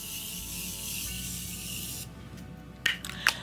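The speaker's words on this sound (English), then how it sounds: "Now I'm going to go on with this Morphe Continuous Setting Mist, and I'm going to spray my face." Morphe Continuous Setting Mist sprays onto a face in a long, steady, close hiss lasting about two seconds, followed by a few soft handling clicks.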